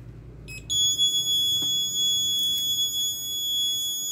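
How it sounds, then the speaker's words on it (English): A loud, steady high-pitched alarm buzzer from an Arduino RFID passport verification system, triggered by an unauthorized card, starts abruptly and sounds continuously, with faint background noise and small clicks underneath. "Alarm should be on."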